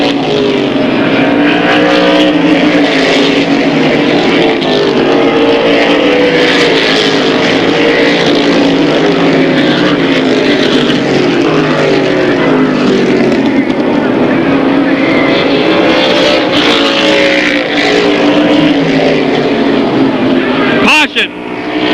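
Race cars roar around a speedway during a regional series 100 event, engine noise dense and continuous with pitches rising and falling as cars pass, under steady announcer talk throughout.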